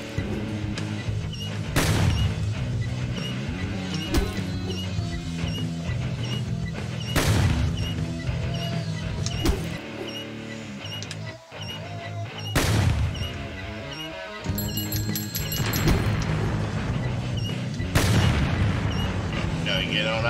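Rocket explosions in a video game hit in heavy booming blasts every few seconds, each a sharp loud crash that decays over a droning musical bed, with occasional impacts and a speaking voice mixed in.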